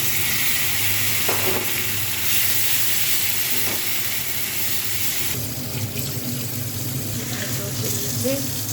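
Loud, steady sizzling of tomatoes frying in hot oil for a salted fish dish, with occasional stirring clinks and a brief splash partway through.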